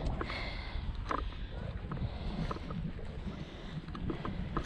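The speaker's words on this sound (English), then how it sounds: "sorry if it's a bit windy, but yeah, it's a bit fresh." Blustery wind on Charmouth Beach buffets the microphone with a steady low roar and gusts, with faint sea and shoreline sounds beneath.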